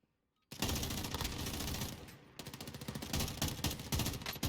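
Machine gun fire in the Warzone video game, a sustained loud rapid burst after a brief silence, dipping for a moment and then resuming in dense, uneven volleys with no talking.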